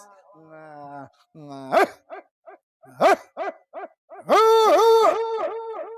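A voice imitates a dog, yelping and barking in short bursts before a long howling bark, loud and close.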